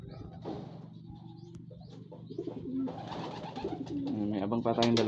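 Racing pigeon cooing softly during sprint race training, soft repeated coos rising in the latter half, with someone speaking nearby.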